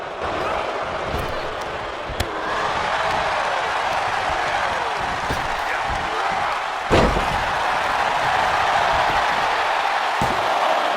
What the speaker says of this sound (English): The crowd is cheering and chanting, urging both men on as they battle for supremacy.